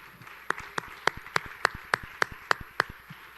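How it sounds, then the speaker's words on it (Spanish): Church congregation clapping together in a steady rhythm of about ten claps, moderately loud with a faint room echo and no talk. "dele un aplauso al Señor"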